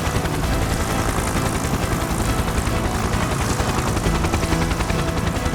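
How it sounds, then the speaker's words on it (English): A rescue helicopter hovers low over a house with its winch lowered, a steady loud rotor and engine roar with dense rhythmic chopping that holds constant throughout, with no talking. "the helicopter arrived at the house with the winch lowered, and it hovered above George"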